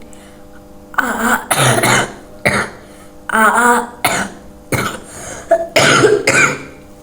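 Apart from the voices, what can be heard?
coughing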